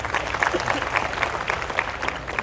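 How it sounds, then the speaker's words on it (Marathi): A crowd claps steadily for Roshnitai at an open-ended youth trainees' protest in Nashik, a dense, continuous patter of many hands with faint voices mixed underneath. "रोशनीताईच्या नावानं जरा टाळ्या वाजवा बरं जरा"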